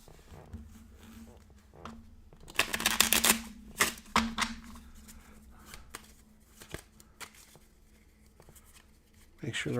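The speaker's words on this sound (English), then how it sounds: "Just going to give these a quick shuffle in." Finspan board game cards shuffled by hand on a tabletop, a dense burst of rapid riffling flutter in the middle, then lighter card handling and taps, close and moderately loud, with no talk over it.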